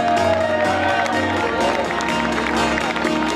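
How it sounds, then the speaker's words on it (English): A crowd at a summer bouldering competition in Bend, Oregon applauds and cheers for the finishers, with steady clapping and scattered shouts beneath an announcer's amplified voice. "Big round of applause for Molly Rennie, everybody."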